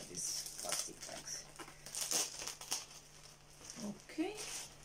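Plastic bags crinkle and rustle in short bursts while clothes from an Asos haul are unpacked, with someone talking throughout.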